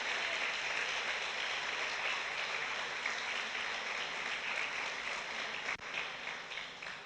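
Congregational applause during a church service, a continuous hiss of many hands clapping in a reverberant hall, steady and moderately loud with a brief dip near the end.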